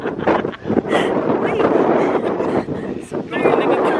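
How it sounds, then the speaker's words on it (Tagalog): Strong wind in Calgary buffets the microphone in loud, gusty rushes while someone talks over the roaring noise. "ang lakas ng hangin"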